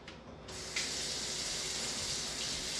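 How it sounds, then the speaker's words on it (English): A kitchen sink faucet is turned on and runs in a steady, close rushing stream, building briefly before settling into an even flow while water is warmed for baking rolls. "I run the water in the sink"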